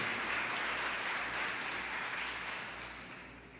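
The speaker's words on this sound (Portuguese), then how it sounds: "Vamos aplaudir ao Senhor por isso" A church congregation applauds during a Portuguese-language sermon, a steady wash of clapping at moderate level that slowly fades toward the end.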